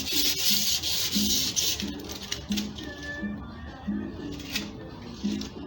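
Brisk rubbing strokes on a finished steel berimbau wire being wiped clean, a repeated scraping rhythm up close, loudest at the start and then softer and intermittent.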